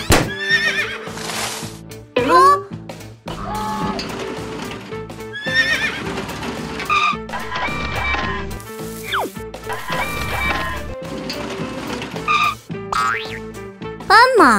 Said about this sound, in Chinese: 斑马